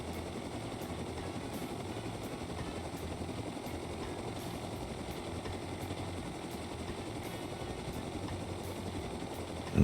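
A helicopter in the Rust video game flies past a base with a steady, even rotor-and-engine drone at moderate distance, unchanging throughout, and no speech.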